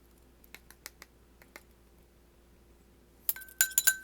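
A small spoon clinks against glass while dry spices such as nutmeg and allspice are measured: a few faint, sparse taps at first, then a brighter, louder cluster of ringing clinks near the end, with no talking.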